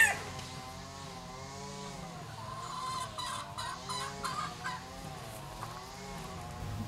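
Chickens on a self-reliant half-acre homestead in Northern California cluck and call softly at a distance in a quiet outdoor setting, with no talk.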